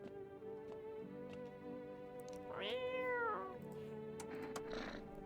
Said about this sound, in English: You reach out and pet the cat.